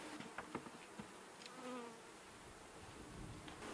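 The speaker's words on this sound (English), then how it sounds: "Check out all these bees." Honey bees hum around an opened beehive, a faint, steady swarm drone with a few nearer individual buzzes passing close by.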